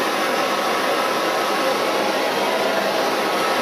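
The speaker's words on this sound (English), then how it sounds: "So we'll light our torch and I'm going to heat it up down here" A gas torch flame heats a steel centre punch for tempering, producing a steady, close, unbroken roaring hiss that holds throughout with no talk.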